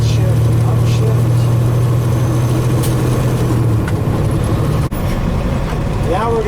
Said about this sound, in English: And now a split shift upshift.